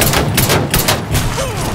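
Rapid gunfire aimed at a gas tank in the video game Mafia 3, a dense loud burst of repeated shots blending into continuous crackling over nearly two seconds.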